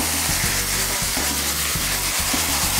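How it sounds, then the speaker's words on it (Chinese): Beetroot chunks stir-fry in a hot pan with sesame oil and a pinch of salt, giving a steady close sizzle broken by regular scraping strokes of a spatula. "热炒菜"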